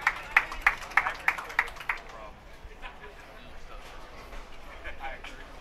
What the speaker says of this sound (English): Justin O'Shaughnessy gets a nice hand clap.